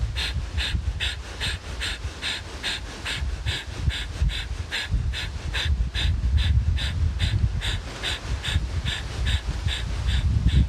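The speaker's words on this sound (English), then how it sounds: "And then let's pump the breath of fire." Rapid, forceful yoga breath-of-fire breathing pumps through the nostrils in a steady, fast rhythm of short bursty exhales, close and loud throughout, with no talking.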